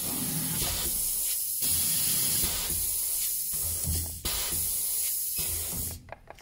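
An Inkcups ICN2200 pad printing machine runs a print cycle, giving a steady pneumatic hiss with several brief pauses in a regular rhythm before it cuts off near the end.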